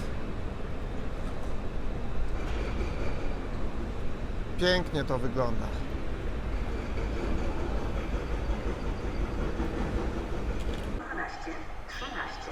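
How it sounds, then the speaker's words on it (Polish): Griffin locomotive hauling the TLK Orzeszkowa to Jelenia Góra through Warszawa Zachodnia, a continuous rail rumble with a short squealing burst near the middle, someone talking over it and the noise easing toward the end. "jedzie Griffin i to jest TLK Orzeszkowa do Jeleniej Góry."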